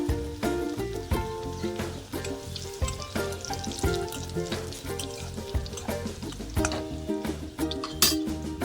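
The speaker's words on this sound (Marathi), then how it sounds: "लसूण छान तेलात लाल होईपर्यंत परतवायचा" Garlic and curry leaves fry in hot oil for a tempering, a steady close sizzle with crackles and occasional sharp pops, continuous throughout with no talking.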